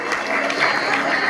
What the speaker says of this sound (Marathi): जोरदार टाळ्या आपण वाजवायच्या आहेत